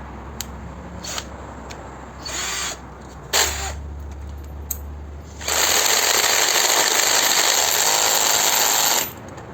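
A Geevorks cordless screwdriver drill set to speed 7 gives a few short whirring bursts, then runs continuously at high speed for about four seconds with a loud, steady motor whine, nearby and with no talking.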